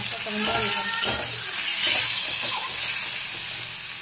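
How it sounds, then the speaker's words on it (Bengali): Cumin, bay leaf, dried chili and turmeric sizzle hard in hot oil in a kadai for a lentil dal, a steady, close frying hiss with a few stirring scrapes and no talking. "দিয়ে দেব জিরে, দিয়ে দেব তেজপাতা, দিয়ে দেব শুকনো লঙ্কা, হলুদ, লঙ্কা"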